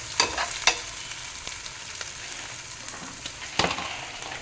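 Mutton paya pieces fry in hot oil with a steady, close sizzle and crackle. Sharper spatters and stirring knocks break through near the start and again toward the end.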